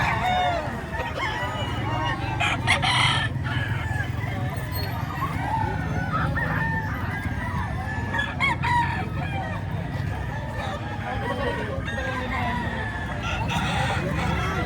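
Several roosters crow repeatedly over a dense background of clucking chickens at a Saturday chicken market in Lipa, Batangas, a busy chorus with overlapping calls near and far.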